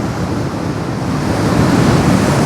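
Strong wind and crashing sea waves at Nagapattinam port, a steady, loud broadband roar of surf and gusts filling the whole stretch with no voices.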